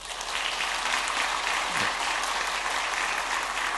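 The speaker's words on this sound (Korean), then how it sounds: "큰 박수로 격려해 주시기 바랍니다" A church congregation gives big applause during a Sunday service, a dense, even roar of clapping held at full strength from start to finish.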